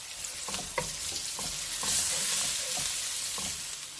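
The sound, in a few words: noodles frying in a pan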